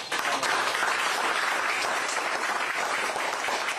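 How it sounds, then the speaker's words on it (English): Town hall audience bursts into dense, loud applause, a steady wall of many hands clapping that holds without pause for several seconds. "You could give her a round of applause."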